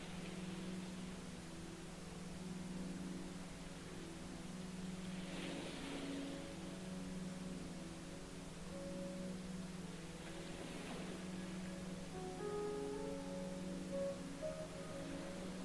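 Quiet, steady pink noise fills the background as a soft, even hiss, with faint, low sustained tones drifting beneath it and no voices.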